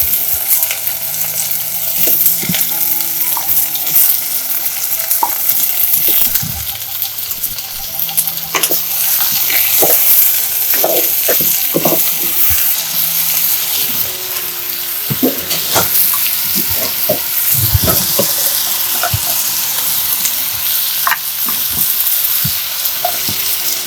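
Chopped papaya frying in a pan for a papaya curry, a steady broad sizzle with intermittent scraping and stirring clicks, close and continuous throughout.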